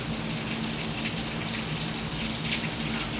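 Steady rain falls outside a house on a Tuesday, a continuous soft hiss of drops on surfaces with a low hum underneath, even and unbroken throughout.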